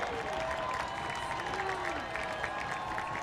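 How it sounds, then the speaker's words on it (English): Crowd noise at a baseball game rises as a broad wash of cheering and scattered clapping from a stadium audience, with a faint whistle or two riding on top. "Crowd cheers before the 2-1."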